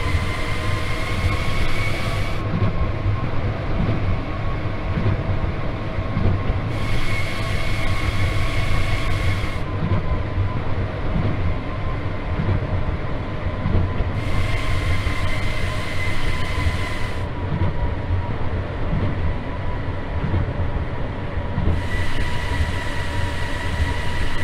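Tama Monorail train running in the BVE train simulator game, a steady loud rumble of rolling wheels and motor hum that stays constant throughout, with periodic shifts in the upper hiss and no talking.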